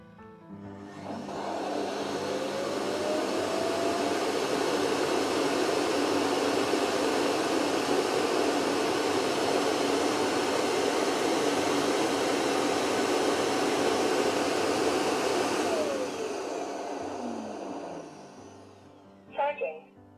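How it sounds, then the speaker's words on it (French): A Proscenic M8 Pro robot vacuum's self-emptying station pulls the dustbin clean with a loud, steady whirring roar that rises quickly, holds for about fifteen seconds, then winds down, followed by a brief clatter. "notre aspirateur vient de se vider"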